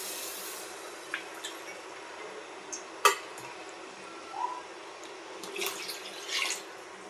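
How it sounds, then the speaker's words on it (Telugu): Water splashes and trickles into a metal pan over sugar for syrup, with scattered clinks of cookware and drips, fairly close and quiet, no talking. "టూ కప్ వాటర్ వేసుకుందాం."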